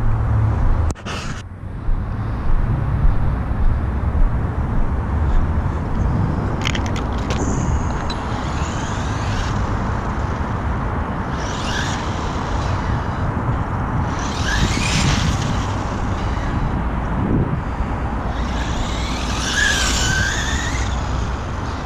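A WLtoys 124017 RC car fitted with big wheels drives and turns on a gripping surface, a continuous loud motor whine and rolling roar with repeated squeals and chirps as the tyres bite, close throughout.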